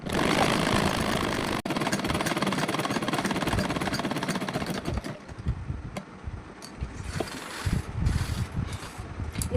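A sewing machine stitches a round-neck blouse, a dense mechanical rattle running continuously at first, then breaking into shorter bursts with brief pauses.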